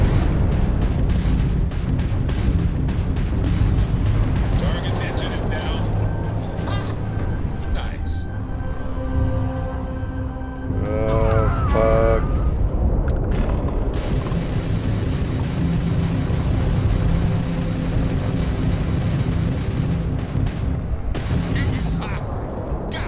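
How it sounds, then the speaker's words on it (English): Missiles firing and exploding in a space combat video game, a dense barrage of loud booms and blasts running continuously, with a person talking over the game audio. "Oh god, they're firing fucking missiles."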